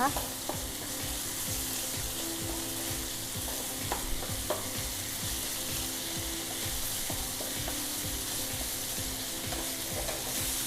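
Minced pork stir-frying with holy basil in a hot pan, a constant loud sizzle with frequent scraping and knocking of the spatula against the pan, steady throughout with no talking.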